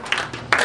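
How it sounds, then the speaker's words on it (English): Classroom applause after a student presentation on a drug project: a short burst of clapping from a group of students, loud and close, with a second swell of claps near the end. "big round of applause for Ecstasy MDMA"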